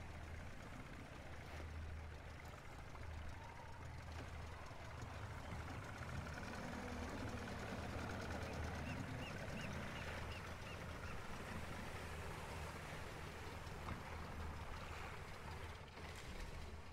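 Boat engine running near a beach in Sniper Elite 4, a steady low droning rumble that holds throughout at a moderate distance with ambient water and outdoor noise, no voices.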